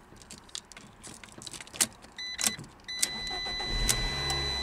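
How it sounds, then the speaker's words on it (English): A 2012 Fiat 500 with a manual gearbox and a replacement engine control unit is started after jangling keys and clicks; the engine catches and settles into a rough, close idle. "Vehicle now starts."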